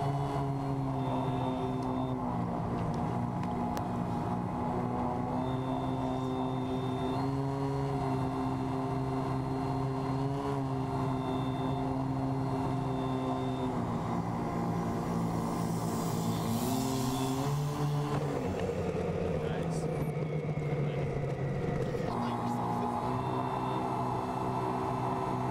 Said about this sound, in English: Now a landing by our test pilot and RC extraordinaire, Evan Draganchuk.